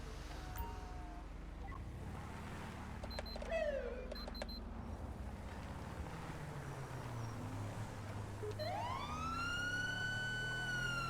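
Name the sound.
police siren from a siren pack in GTA V video game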